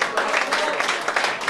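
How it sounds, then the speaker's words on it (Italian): Concert crowd at a blues night claps for the guitarist and singer, a brief, dense burst of many hands with uneven, pulsing swells. "Applauso, Francesco Romano alla chitarra e alla voce."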